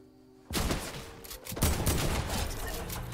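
Gunfire from the Fortnite battle royale video game, a dense burst of overlapping shots that erupts suddenly and keeps crackling loud and fast for about three seconds, with a second surge midway and no speech over it.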